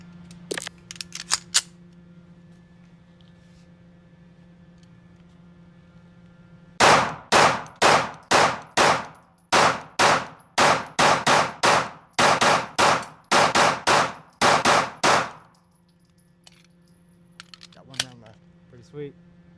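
A new Sig pistol fires a rapid string of about fourteen loud, sharp shots at close range over roughly eight seconds. Brief talk comes before and after the string, with faint clinks near the end.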